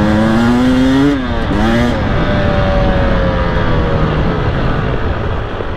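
A 2019 Husqvarna TE300i TPI two-stroke dirt bike on a Colorado trail, its engine loud and close throughout, revving up with rising pitch sweeps in the first two seconds and then holding a steady, strained drone.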